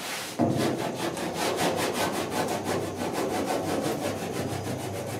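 Block sanding body filler on the dash of a 1966 Ford F100, a steady rhythmic rasp of back-and-forth strokes, close and even, about two strokes per second with no talking.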